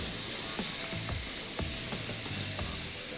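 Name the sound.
liquid added to risotto (berkoukes) sizzling in the pan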